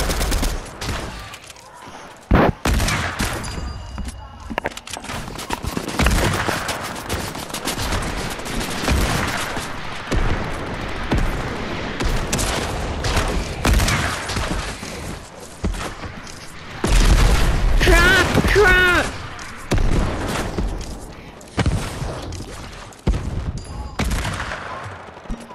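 Gunfire in the Fortnite video game, dense bursts of shots and booms rattling almost nonstop at close range, with game sounds mixed in and brief speech over it.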